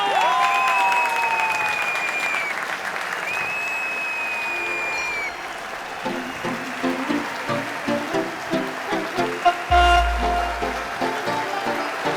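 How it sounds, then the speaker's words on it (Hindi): Studio audience applause rises across a comedy-show scene on a Christmas celebration episode, dense clapping in a steady wash, with a musical sting and low thump near the end. "ताली बजाओ"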